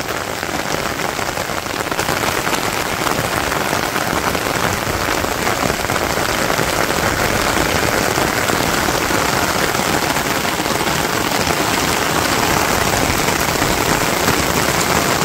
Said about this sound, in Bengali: এখন বৃষ্টি জুড়ে নামছে